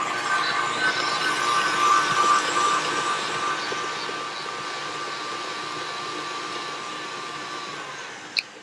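An electric mixer whirs steadily through custard pie filling with vanilla for a tarte à la bouille, a continuous close buzzing hum that eases slightly in level partway through, ending with a brief click.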